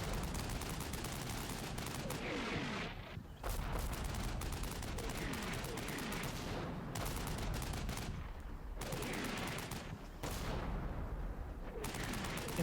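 Heavy .50-caliber machine gun fire during a US Army Stryker infantry assault on a defended built-up area in a military video game, sustained loud bursts and rattling volleys with only brief gaps between them.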